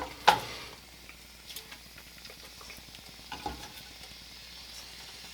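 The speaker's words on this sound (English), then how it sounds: "we're going to sear both sides on this on high heat," Boneless chicken thighs sear in hot fat in a pan over high heat, giving a faint, steady sizzle with a couple of soft clicks near the start. No one speaks.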